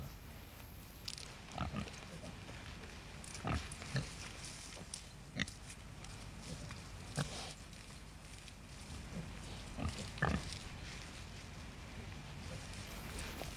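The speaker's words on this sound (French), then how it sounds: "une forêt de chênes où s'ébattent les cochons en toute liberté" Free-roaming pigs in an oak forest in Barbagia, Sardinia, grunting and oinking intermittently at moderate distance against a quiet outdoor background.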